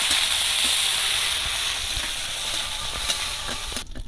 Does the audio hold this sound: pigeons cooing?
no